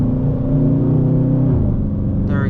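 Dodge Charger R/T engine pulls hard after a downshift into second gear while driving in rain, a loud, close, rising rumble with a brief pitch drop midway.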